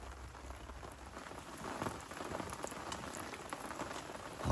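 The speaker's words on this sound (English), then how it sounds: "it's raining" Steady rain pattering on surfaces at a carp fishing spot, a dense, even hiss of drops with no talk, growing slightly heavier toward the end.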